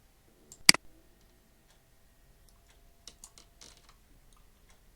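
A computer mouse clicks with a single sharp click up front, then a few faint, scattered ticks and taps of keys in a quiet room.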